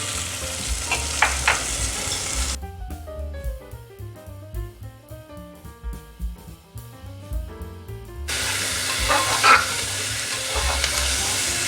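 Vegetables and green chili with salt stir-frying in a pan for a one-pot broken-rice pulao, a steady close sizzle with stirring at the start and end, interrupted in the middle by a stretch of music.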